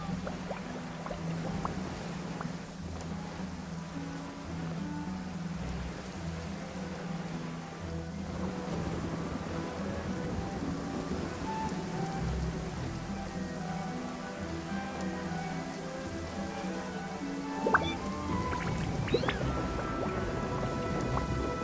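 Steady rain patters and drips in a Genshin Impact game scene, a continuous wash of drops on surfaces over low music-like tones, moderately loud throughout with a few sharper drip accents near the end.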